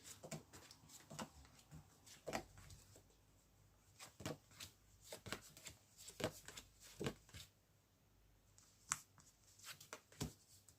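Tarot cards being shuffled and drawn by hand, soft papery slaps and riffles in irregular bursts, close and quiet in an otherwise calm room.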